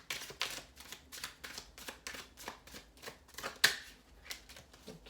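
Tarot cards shuffled close up in a steady rhythm of crisp riffling flicks, about a dozen quick papery bursts, with no talk.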